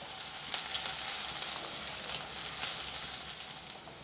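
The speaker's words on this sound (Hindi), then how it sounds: "चम्मच चलाते हुए हम प्याज को सुनहरी होने तक फ्राई कर लेते हैं।" Onions fry in hot oil as a spoon stirs them, giving a loud, steady, dense sizzle with faint scraping through the whole stretch and no talking.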